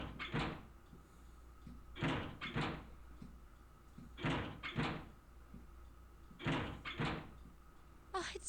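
Doors being tried in the video game Zero Escape: 999, several pairs of quiet rattling thuds and clunks repeating at intervals, faint and alone.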